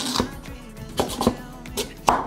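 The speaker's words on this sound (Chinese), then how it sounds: "把地瓜削皮，把地瓜切片。" A knife slices through peeled sweet potato on a board in a few close, irregular cuts, each a short tap, with faint talking underneath.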